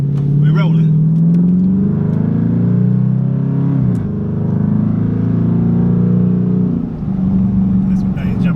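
A car fitted with a Carven exhaust revs and drones loudly and continuously nearby, its deep engine note rising and dipping over several seconds, with a brief lull near the middle.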